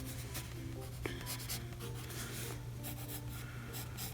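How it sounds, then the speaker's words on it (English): A watercolor pencil scratches and rubs across sketchbook paper in short, continuous strokes, quiet and close, with no voices. "I'm doing the sketch in my sketchbook because I don't have watercolor paper"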